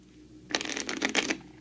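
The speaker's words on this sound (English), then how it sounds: "You'll then take all of the other chosen sets of cards and shuffle them together to form a face-down deck" A deck of Sushi Go Party cards is shuffled together in one quick, crisp riffle, a burst of papery flutter lasting about a second against a quiet room.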